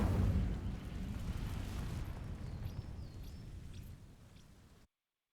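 An Incendio fire spell sets vines ablaze in Hogwarts Legacy, one strong whooshing burst followed by a long crackling, roaring burn that fades out.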